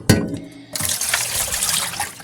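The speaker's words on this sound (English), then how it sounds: "we get the thieves water in here so that can soak for a while" Water pours steadily into a container of thieves water set aside to soak plants, a close continuous splashing rush that follows a short knock and lasts about a second and a half.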